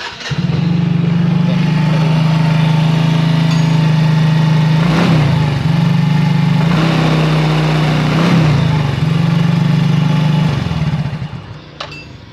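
A Yamaha Mio J or Soul GT scooter engine idles too high, a loud, steady drone close by that holds for about ten seconds with slight surges before easing off at the end.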